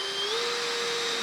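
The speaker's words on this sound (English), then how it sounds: "I'm going to put my drill in the centre of the hole here." Power drill boring a hole through a van floor, a steady high whine running without a break, close and fairly loud.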